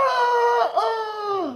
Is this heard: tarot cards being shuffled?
no